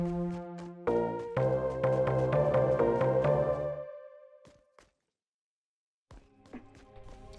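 A melody played on Fortnite music blocks in the video game, a run of bright pitched tones in a steady rhythm that decays into silence, followed by a few brief clicks near the end.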